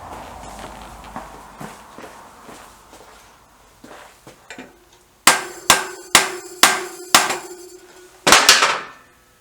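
Metal hammering on a BSA B50T motorcycle while fitting a wheel: soft scattered taps at first, then a run of five loud, ringing strikes in steady rhythm, a pause, and one last sharp blow, close by.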